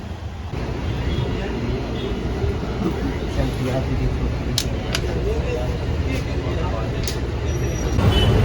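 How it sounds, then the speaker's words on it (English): A city bus rides toward Andheri railway station in Mumbai, its engine and road noise forming a loud, steady rumble inside the vehicle, with a few sharp clicks and brief hisses, and voices talking underneath. "Now I'll take a bus to Andheri railway station from here."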